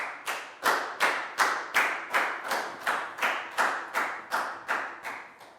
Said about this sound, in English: a big round of applause for Pak Bung, please, guys